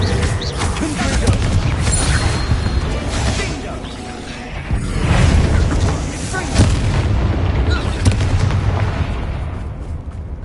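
Confringo spell explosions burst during combat in Hogwarts Legacy, dense booms and crashes layered over a busy battle, with talking mixed in.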